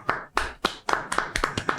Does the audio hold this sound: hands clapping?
yes